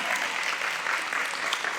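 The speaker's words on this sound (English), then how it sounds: "Can you guys give Ty a round of applause?" Steady, dense audience applause at a community baby shower, loud and continuous throughout without a break.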